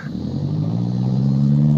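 A beater car's engine drones and revs in the racing video game Midnight Racing, a steady low rumble that climbs slightly in pitch and grows louder throughout, with no talking.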